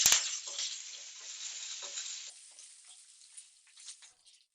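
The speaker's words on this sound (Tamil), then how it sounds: "ஸ்லோவிலே வச்சு நல்லா வதக்கிக்குங்க." Curry leaves with green and dried chillies sauté on low heat in a pan for mango rice. After a sharp click at the start, a faint hissing sizzle gradually fades.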